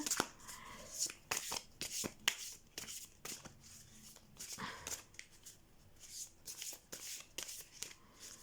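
Oracle cards are shuffled by hand in a quiet room, a close series of soft riffling flicks and papery slides that come in irregular bursts, with faint speech in the background.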